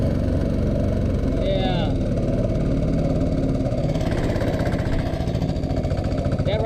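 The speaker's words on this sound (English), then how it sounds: "That right there, my friends, is why it's important to have a mud motor" A mud motor drives a boat through the marsh with a loud, steady, throbbing engine drone that runs close and continuous throughout, while a voice speaks briefly over it.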